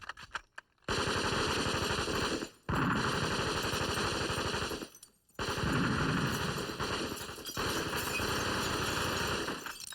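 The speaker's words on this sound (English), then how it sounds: "Suddenly a bunch of guys stormed in, started shooting." Men shooting inside a restaurant at a fish joint: long sustained bursts of loud automatic gunfire, broken by a few short pauses, dense and continuous throughout.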